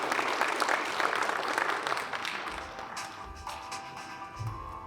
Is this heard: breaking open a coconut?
no